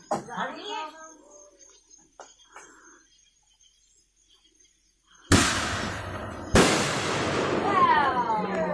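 Fourth of July fireworks go off in two loud, sharp bursts with crackling tails after a quiet stretch of faint talk, including a voice.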